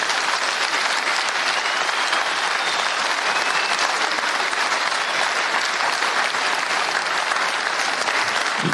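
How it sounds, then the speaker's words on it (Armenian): Applause for the city of Gyumri fills the hall, a dense, steady clapping from a crowd that holds at full strength from start to finish with no talk over it. "ծափահարություններ մեր Գյումրիին"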